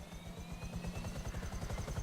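A helicopter in the online mode of the video game GTA V, its rotor thumping in a steady, fast rhythm with a high turbine whine over it, loud and continuous throughout.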